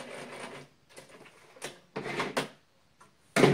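Serger overlocking the raw edge of a tulle underskirt, running in short mechanical bursts with pauses between, the last burst loud and close.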